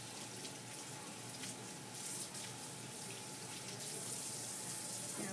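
Warm water runs steadily from a sink tap during handwashing with soap, a continuous close-up splashing hiss that holds for the whole stretch with no speech over it.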